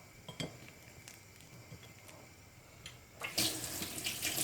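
Hands washed under a running kitchen tap, with faint clinks of utensils first and then a loud, close, steady rush of water toward the end.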